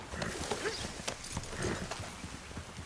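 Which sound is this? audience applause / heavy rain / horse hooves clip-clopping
horse hooves clip-clopping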